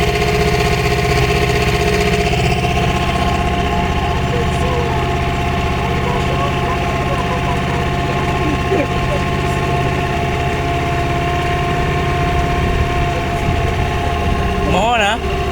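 A boat engine idles steadily on an island boat tour near Gabalema Island in Mwanza, a loud, even mechanical drone close by that runs the whole time, with people talking over it.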